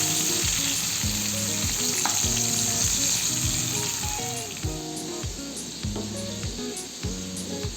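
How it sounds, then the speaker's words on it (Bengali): Lacho fish sizzles steadily as it fries on low heat in a home kitchen pan, making a constant crackling hiss. A rhythmic musical backing plays along with it. "কম আঁচে ভালো করে উল্টে পাল্টে মাছগুলোকে ভেজে নিতে হবে।"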